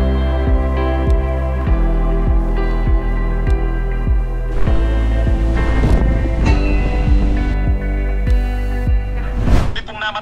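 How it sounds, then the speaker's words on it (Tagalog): Strong typhoon wind at a camper van base camp during Typhoon Carina, with no rain: a loud, continuous roar and buffeting against the microphone, with a low hum underneath and a surge of gusting near the end. "Walang ulan pero lakas ng hangin."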